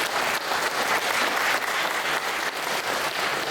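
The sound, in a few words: congregation applause to approve a nomination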